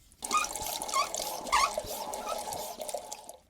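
Cooking oil poured from the lid's measuring tool into a kettle pot popcorn maker, a steady liquid trickle and dribble lasting a few seconds, close and fairly quiet.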